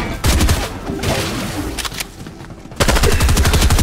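Rapid bursts of automatic gunfire in the video game Fortnite during a duos match, loud and dense, dropping briefly before another sustained volley near the end, with no talk over it.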